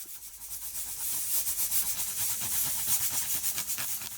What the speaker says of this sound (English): Grate in the ginger.